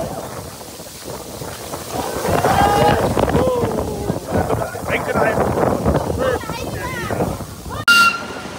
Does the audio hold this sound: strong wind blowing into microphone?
yes